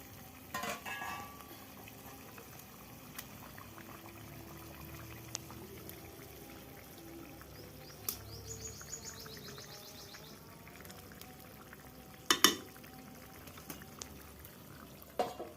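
Sonabogo fish pieces tipped into a pan and frying, a quiet, low sizzle with a few scattered clinks and a brief louder clatter near the end.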